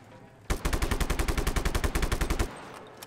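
A rapid burst of automatic gunfire from the video game Just Cause 3, about two seconds of loud, evenly spaced shots that start and stop abruptly with no talking.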